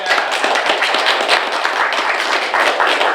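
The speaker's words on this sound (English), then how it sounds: "We can clap for them even if they're not here." A city council meeting audience claps for absent contest winners, a dense, fairly close round of applause with many overlapping hand claps sustained for about three seconds.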